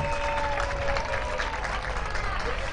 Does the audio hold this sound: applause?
yes